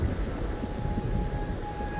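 Steady rain and a low, rolling thunder rumble in the rainy Raguna setting of the video game Wuthering Waves, a constant, moderately loud wash of ambience with no voices.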